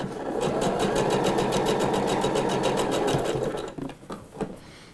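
A domestic sewing machine runs steadily, stitching a narrow handkerchief hem on a dress, folded 1 cm and sewn close to the edge. The loud, fast whirring lasts several seconds, then stops, leaving faint handling noise.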